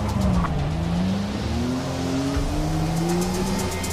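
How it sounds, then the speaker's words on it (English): A race car in Forza Motorsport pulls out of the pits onto the track in a rain shower, its engine rising and falling in pitch as it accelerates and shifts, loud and close. "Your car drives up the pits to the track through a shower of rain"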